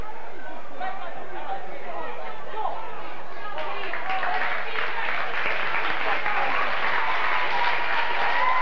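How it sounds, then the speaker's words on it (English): Supporters of the Cuchulainns side applaud at an under-12 Gaelic football league final, a crowd's clapping swelling steadily from a scattered start into a sustained, fairly close round with chatter mixed in. "And to a huge round of applause from the Cuchulainns supporters"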